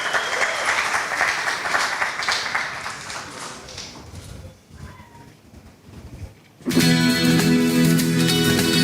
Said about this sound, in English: Put your hands together for him as he makes his way on stage